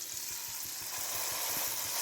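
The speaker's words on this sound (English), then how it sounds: "You got to have the sizzle." Burger patty laid into a buttered pan, giving a steady, close hiss of sizzling fat that holds evenly throughout without any talk.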